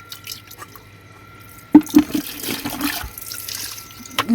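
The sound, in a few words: prawns and fish being washed in water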